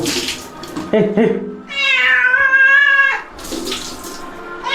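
A cat being bathed under running tap water gives loud, drawn-out meows close by, with the splash of water and handling noise around them.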